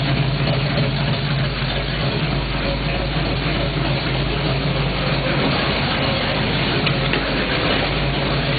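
Steady, continuous idle of a Camaro Z28 V8 fitted with a Comp Cams 270 Magnum camshaft, running close up in a garage with a deep, even rumble and no talk over it.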